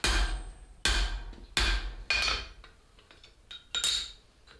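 Heavy hammer blows drive a hot eye punch through steel on an anvil, about five sharp, ringing strikes at uneven spacing with lighter metallic clinks between, close and otherwise quiet.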